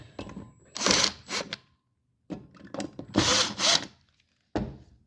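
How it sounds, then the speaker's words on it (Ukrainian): A mounting bracket being unscrewed from an electrical light fixture box, with bursts of ratcheting, whirring tool noise separated by pauses, close up and with no talking. "Тут ми відкручуємо."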